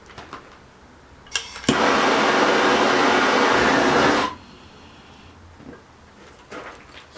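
A homemade torch roars into a steady, loud hiss for about two and a half seconds with its regulator opened all the way, framed by a few clicks and then quieter background noise.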